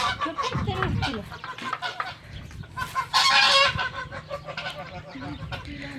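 Several geese honk and cackle loudly in overlapping bursts, close by, with a voice speaking briefly among them.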